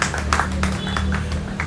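An outdoor festival audience in Accra gives a brief round of applause for traditional musicians, a short patter of clapping over a steady low hum of background sound.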